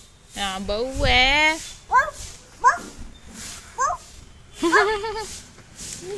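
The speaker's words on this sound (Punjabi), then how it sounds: "ਇਹ ਬੜਾ ਭੌਂਕਦਾ ਜਦੋਂ ਮੈਂ ਉੱਪਰ ਚੜਦੀ ਹੁੰਨੀ ਆ" A dog at home gives a run of short yips and whiny barks, loud and close, mixed with someone talking over it.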